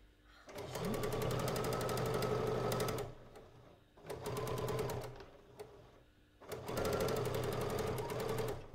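A Bernina sewing machine stitches in three fast, buzzing bursts of rapid needle strokes, each a few seconds long, separated by short quiet pauses, heard close up and alone.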